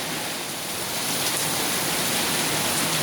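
Heavy rain pours down in a dense, even roar that grows slightly louder, steady and close with no breaks, alone without talk.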